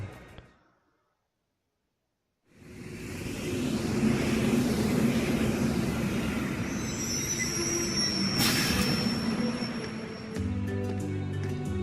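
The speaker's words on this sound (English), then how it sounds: "Train." A train in the Trails of Cold Steel video game rumbles along steadily after a brief silence, with a loud continuous roar, a squealing wheel screech partway through and game music entering near the end.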